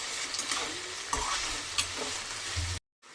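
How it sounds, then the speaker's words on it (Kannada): Eggplant fries in oil with mustard seeds and chana dal for vangi bath, giving a steady close sizzle with a few stirring scrapes before the sound cuts off abruptly near the end. "ಬಾಣಲಿಯಲ್ಲಿ ಸ್ವಲ್ಪ ಎಣ್ಣೆ ಹಾಕಿ ಸಾಸಿವೆ ನೋಡಿ, ಕಡಲೆಬೇಳೆ 2 ಸ್ವಲ್ಪ ಫ್ರೈ ಮಾಡಿಕೊಂಡು ಬದನೆಕಾಯಿ ಹಾಕ್ಕೊಂಡಿದ್ದೀನಿ"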